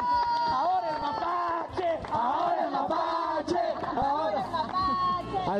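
A lively audience at a children's show with clowns, cheering and shouting loudly in a continuous roar of excited voices, close and energetic throughout with no pauses.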